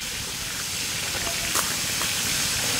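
Bata fish fries in hot oil on a heated tawa, giving a loud, continuous sputtering hiss with a brief sharper crackle partway through, and no clear speech over it.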